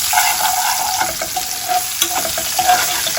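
Green chilies, hing and sesame seeds sizzle loudly in a hot tempering pan while being stirred, a steady close crackling fry with scraping stir strokes throughout.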